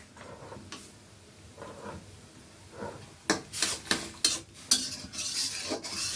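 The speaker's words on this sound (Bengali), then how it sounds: "আমি এখন নেড়ে চেড়ে নিব।" Spiced vegetables with chili powder stirred in a pan, cooked without oil; after a quiet start, a run of close, scraping spoon strokes and clatters against the pan, with no voices.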